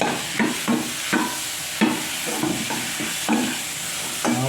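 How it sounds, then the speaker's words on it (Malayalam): Apple pieces fry in hot oil in a pan while being made into pickle, a constant sizzle broken by repeated scraping stirs at an uneven rhythm, close and clear. "ആപ്പിളിട്ട് മൂപ്പിക്കുകയാണ്"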